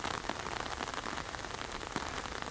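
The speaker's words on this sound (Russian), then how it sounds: "Вот, видите, какой сильный дождь." Heavy rain pours steadily in a forest, a dense continuous hiss of drops drumming on surfaces, close and loud throughout with no voices.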